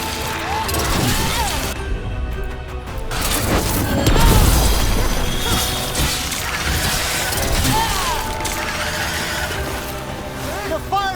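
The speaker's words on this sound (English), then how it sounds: "They're firing at us!" In Dragon Age: The Veilguard, attackers unleash booming explosions and crashing gunfire, a steady barrage of heavy impacts and pops with one louder blast near the middle, while voices speak over the din.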